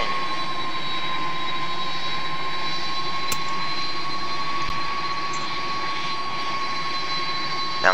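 Jet engines of a McDonnell Douglas DC-10-10 airliner in the FSX flight simulator, a steady loud whine with a sustained high-pitched tone over a broad rushing hum, continuous throughout with a brief click near the end.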